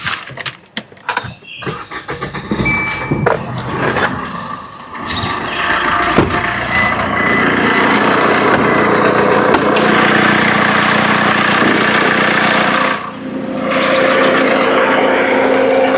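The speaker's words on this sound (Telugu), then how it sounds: "ఫస్ట్ అయితే నేను ఇంజన్ స్టార్ట్ చేసి మరి నేను చూపిస్తాను" A blue Maruti Vitara Brezza ZDi+ diesel with about 29,000 km is started after a few clicks and knocks. The engine catches and settles into a loud, steady idle hum that holds to the end, with a brief dip near the close.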